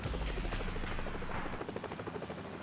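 Marine One, a US presidential fleet helicopter flown by Marine Helicopter Squadron HMX-1, thumps loudly and steadily with deep rotor beats and turbine whine, heard close up and alone.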